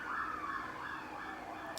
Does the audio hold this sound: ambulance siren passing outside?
yes